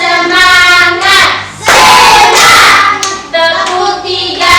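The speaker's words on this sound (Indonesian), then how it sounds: "Dan tepuk semangat untuk mereka dulu." A class of children claps a rhythmic spirit cheer together, with a burst of loud group clapping in the middle and an adult and children's voices around it.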